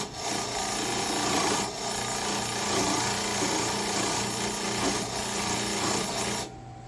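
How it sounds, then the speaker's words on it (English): A hacksaw blade pressed against a spinning buffing wheel to strip off excess compound gives a steady, loud rasping scrape that runs for several seconds over a motor drone, then cuts off near the end. "We're going to take the other side of our hacksaw blade and hold that against the wheel. And that is going to strip that wheel down."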